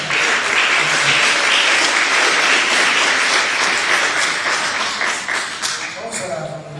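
A church congregation claps hands together in sustained, dense applause that fills the space, with voices mixed in, tapering slightly toward the end.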